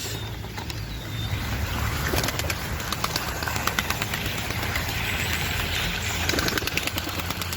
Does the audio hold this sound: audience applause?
no